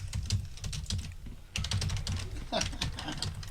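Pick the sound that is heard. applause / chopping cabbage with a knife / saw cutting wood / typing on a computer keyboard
typing on a computer keyboard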